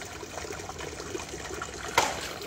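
Water trickling and dripping indoors, a soft continuous dribble with faint irregular drips and one sharper splash near the end, close and fairly quiet.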